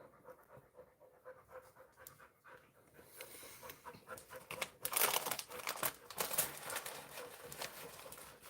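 A dog pants softly and rapidly at close range. The breathing builds midway, with crinkling and rustling nearby in a quiet room.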